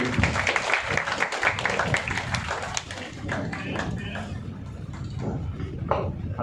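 Audience clapping at a ceremony of an astrology trust, brisk and fairly close at first, then thinning and fading, with voices murmuring beneath it.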